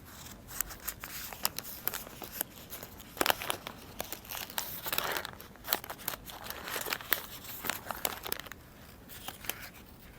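Oil paper wrapped around a fuel injector valve assembly crinkles and tears as it is unwrapped, a steady run of close crackling and rustling bursts with no talking.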